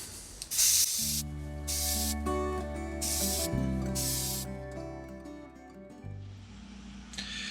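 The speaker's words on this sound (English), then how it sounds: "one final step on here is to spray a matte finished, clear matte finish on here." An aerosol can of clear matte finish hisses in several loud, separate bursts of spray onto a painting, each lasting about a second, over a steady background hum.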